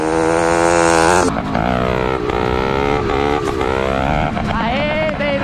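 A motorcycle engine revving loud and close while its rider practises wheelies, the pitch climbing, dropping and surging again with wind buffeting the microphone.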